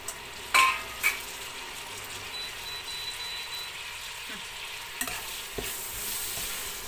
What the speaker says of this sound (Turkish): Soğanı kavrulsun arkadaşlar şöyle.